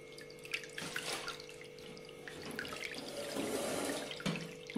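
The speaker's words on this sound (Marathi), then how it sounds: "हे चाळणीने आपण चाळून घेतोय पाणी" Vegetable cooking water from a pressure cooker of spinach, coriander and tomato soup being strained through a sieve, soft trickling and splashing with a few drips, faint and close, with quiet kitchen clatter.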